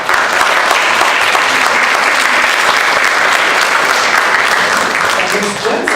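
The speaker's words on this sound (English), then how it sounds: "give each other a round of applause" A room full of LA Marathon finishers applauds one another in a steady, dense round of clapping that stays loud and even throughout, with a few voices mixed in.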